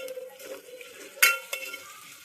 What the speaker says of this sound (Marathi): मसाले छान मिक्स करायचे